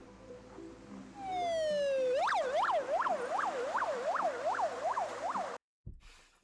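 An ambulance siren wails in an ice-fogged city at minus 54 degrees, rising once and then cycling through a steady, fairly loud yelp pattern before it cuts out abruptly near the end.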